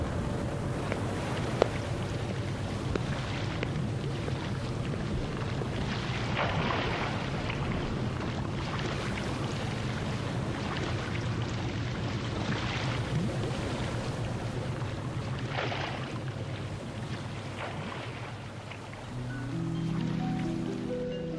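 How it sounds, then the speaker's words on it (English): Cold open ocean water at night, a steady broad wash of waves and surf rolling continuously, with gentle swells rising and falling and a low rumble underneath. "I was listening to the water. The cold ocean water out there."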